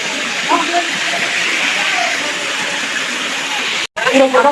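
Boroitoli waterfall at Cox's Bazar pours in a steady, broad rushing hiss that runs continuously, briefly cut by a dropout near the end, with faint voices beneath.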